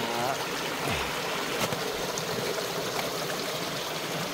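Water trickles and gurgles steadily beneath ice in a snowy mountain valley, a continuous close rushing with faint bumps and brief knocks throughout.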